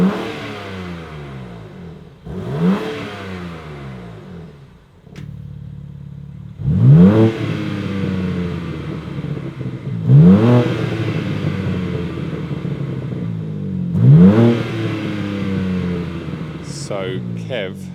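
A BMW M3 Touring exhaust, before and after the rear section is cut off, revved four times in succession, each rev a loud rising snarl that drops back to a burbling idle, heard close up with no talking.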